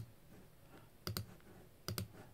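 A computer mouse on a Mac gives two quick pairs of sharp clicks, about a second apart. They are close and crisp over a faint room hiss.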